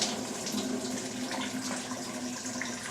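Tap water runs steadily into a sink or bowl to rinse homemade slime, a continuous close splashing hiss with no talking.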